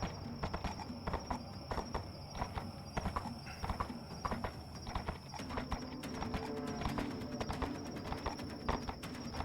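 Horse hooves clip-clopping in a VRChat role-play game, a steady busy patter of many hoofbeats with cooing birds in the background and occasional faint voices.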